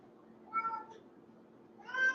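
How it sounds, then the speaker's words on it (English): A pet cat meows twice during an indoor livestream, the first call mid-length and the second a louder, drawn-out meow after a short pause, heard up close with a little room noise. "He's just meowing."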